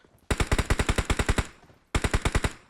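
Rapid automatic gunfire in the mobile game PUBG Mobile: a burst of about a dozen sharp, evenly spaced shots, a short pause, then a second burst of similar rapid shots, loud and close.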